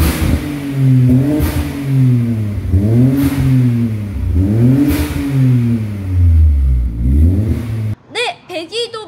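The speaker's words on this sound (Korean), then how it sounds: "일단 배기음 듣고 옵시다." A tuned car's aftermarket exhaust revs up and down about four times in rising and falling swells, loud and close, before cutting abruptly to a brief, different sound at the end.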